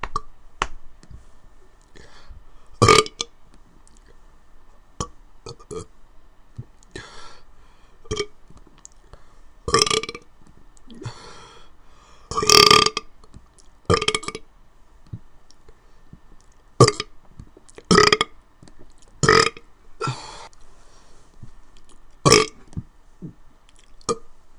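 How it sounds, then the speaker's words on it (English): A man lets out a long series of loud, close burps one after another with short pauses between them, some sharp and some drawn out, and no talk in between. "After I get this big burp out"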